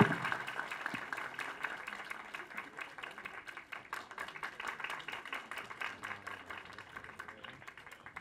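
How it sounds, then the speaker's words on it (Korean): Cinema audience at a film talk event for directors Hwang Dong-hyuk and Lee Jung-jae clapping together, a busy patter of many hands that holds steady and slowly fades, heard from a little distance. "황도혁 감독님 그리고 이정재 감독님에게도 큰 박수 같이 치면서 인사드리 마감하도록 하겠습니다."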